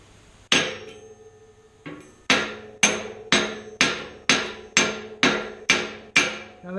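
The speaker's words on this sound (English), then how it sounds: "So the first few blows I'll do with a hammer" A hand hammer striking a quarter-inch steel sleigh bell being forged cold, ringing metallic blows, first two spaced apart and then a steady run of about nine evenly timed strikes, close and loud with no talk.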